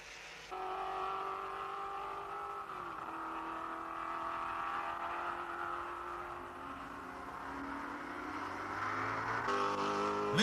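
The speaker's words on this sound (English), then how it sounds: "the cars are moving through the rain" Porsche race cars at Le Mans in 1968 driving through rain on a wet track, engines droning steadily with pitch shifts as the cars move past at a moderate distance, with no speech.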